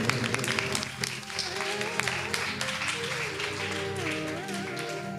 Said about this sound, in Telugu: చప్పట్లు కొట్టని గట్టిగా.